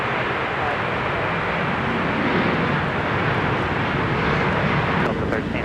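An airliner takes off from a runway at Minneapolis–St. Paul Airport, giving a steady, loud, broadband jet roar that holds for the whole stretch without letting up.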